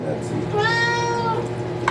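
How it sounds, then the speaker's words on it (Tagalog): A house cat gives one clear, drawn-out meow that rises and then fades, close to the microphone, over low room noise, with a brief sharp sound at the very end. "nang nang ayan ang aking pusa. Ang aking pusa."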